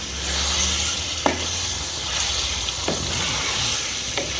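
Chicken biryani being stirred in a kadai, with steady sizzling and a few sharp scrapes of the spoon against the pan over a continuous frying hiss.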